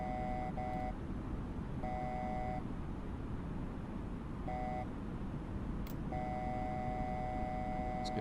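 Cockpit warning beeps from an Airbus A320 in Microsoft Flight Simulator 2020 chime in short repeated bursts over a steady loud roar of engine and wind noise.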